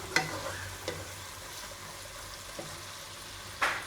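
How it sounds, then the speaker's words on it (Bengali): Continuous close sizzling of chilies, garlic and onion frying in oil, with a few sharp clinks of stirring scattered through it. "তার জন্য তেল দিয়ে ভেজে নিচ্ছি।"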